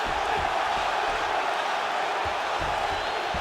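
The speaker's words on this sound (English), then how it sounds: "crowd absolutely loving it as the fighters, however compromised, make their way back to the feet" A dense, steady crowd roar fills an arena in the UFC 5 fighting video game, a continuous wash of cheering with no distinct breaks, loud and constant throughout.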